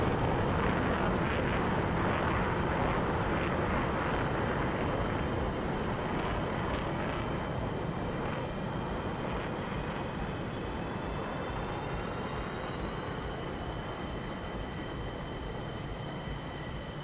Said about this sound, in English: Was that MiG-29 that took off?